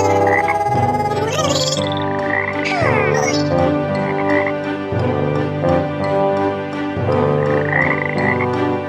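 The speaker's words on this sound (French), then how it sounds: "Ce sont des grenouilles." Frogs croaking in a dense, continuous chorus of rhythmic pulsing calls, loud and steady throughout, with layered repeating croaks overlapping one another.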